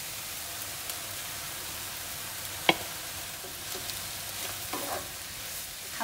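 Spinach, sliced mushrooms and boiled chicken fry in a pan with a steady hiss of sizzling, close and even, broken by a single sharp utensil tap and a few faint stirring scrapes.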